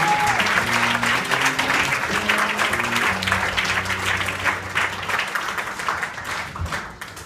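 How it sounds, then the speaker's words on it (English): A live comedy-show audience applauds comedian Ross Parsons, a dense, steady wash of clapping that holds strong throughout and eases slightly toward the end, with faint background music tones underneath. "put your hands together"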